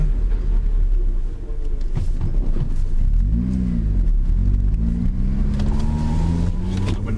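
A car fitted with a cat-back exhaust idles with a deep, steady rumble and blips its revs, the exhaust note rising and falling in a few swells over a continuous low drone.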